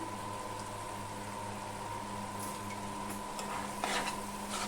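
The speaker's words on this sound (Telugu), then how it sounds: "మగ్గేదాకా మనం కొద్దిసేపు ఆయిల్లో ఫ్రై చేసుకుందాము" Spice paste with bay leaves and turmeric sizzles steadily in hot oil in a pan for a paneer curry, a close, even frying hiss with a few light stirring scrapes and no talking.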